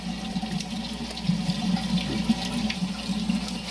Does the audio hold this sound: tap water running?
yes